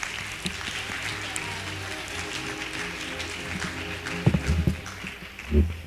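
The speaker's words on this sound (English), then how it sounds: "Dr. Maria Jasmine J. Hamora. A round of applause." An audience applauds at the 2022 Philippine Dermatological Society induction ceremony, a steady, moderate patter of clapping across the hall, with a few louder thumps and handling noises near the end.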